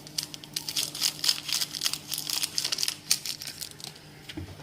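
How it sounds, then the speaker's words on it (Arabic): A small cappuccino sachet crinkles and rustles as it is shaken and emptied into a mug, with soft, irregular papery crackles close up. "حطيت كده معلقه سكر وهفضي الكيس كله"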